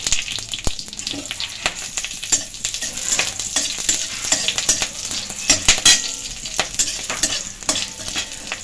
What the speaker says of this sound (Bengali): তেল গরম হয়ে গেছে, দিয়ে দিচ্ছি গোটা জিরে, কাঁচা লঙ্কা এভাবে কেটে নিয়েছি